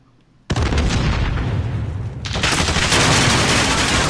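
Sudden heavy gunfire erupts in Call of Duty Warzone, a dense, loud barrage of shots and booms that starts abruptly and grows even louder midway, continuous with no talking.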